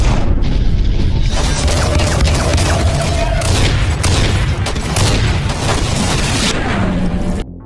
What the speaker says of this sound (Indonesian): sehingga aksi baku tembak sengit tidak dapat lagi dihindari